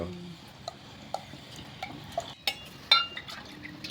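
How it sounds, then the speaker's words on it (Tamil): A wooden paddle stirs thick ragi kali in a pot, with soft scraping and intermittent clinks against the vessel. The sound is moderately close, irregular, and quiet. "இப்போ என்ன ஒரு துடுப்பு போட்டு கிண்டிட்டுக்கிற"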